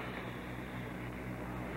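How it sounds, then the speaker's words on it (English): Powerful diesel locomotive engines of a long, heavy New York Central Railroad freight train leaving the rail yard, a steady low growling drone that stays even and unbroken. "Powerful diesel engines growl."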